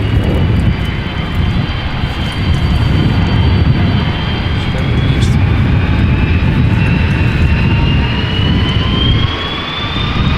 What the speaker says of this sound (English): Finnair A330 300